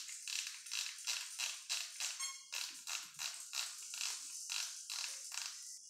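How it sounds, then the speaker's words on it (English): A small pan-tilt servo driven by an FPV goggle head tracker whirs and buzzes in a quick train of short bursts, close and quiet, with no voices. "you can see that the servo moves in the opposite direction"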